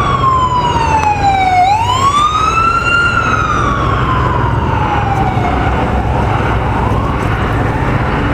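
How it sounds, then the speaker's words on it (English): An emergency siren wails steadily, sweeping down and then up in pitch, loud and close over a low rumble of traffic. "Here comes the sirens."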